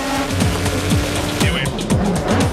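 A Le Mans endurance race car with softened rear suspension pulls back out onto the track, its engine revving through repeated rising gear sweeps at moderate distance, loud and steady under a narrator's voice.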